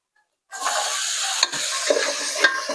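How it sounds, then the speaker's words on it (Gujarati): Peas tipped into hot khichdi tempering in a pan, a sudden loud sizzle bursting in after a short silence and holding steady with a few stirring clicks, close up. "હવે આમાં નાખી દઈએ છીએ આપણે આ વટાણા"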